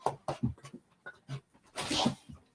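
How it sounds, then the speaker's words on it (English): A dog eating pepperette meat-stick treats, with close, irregular mouthing and smacking sounds, soft whimpers and panting, and a louder burst of chewing noise near the end. "The dog is a fiend for pepperettes."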